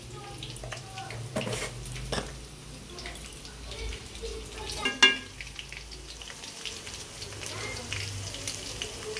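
Spices sizzle and fry in a pan for chicken khichuri, a soft steady crackle with occasional stirring clinks and a louder scrape midway.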